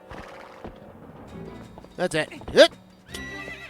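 Epona the horse whinnies loudly in a mid-clip burst amid hoof clatter in The Legend of Zelda: Twilight Princess HD, with someone talking over the game audio before and after.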